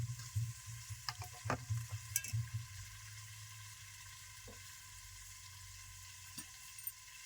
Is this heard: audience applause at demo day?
no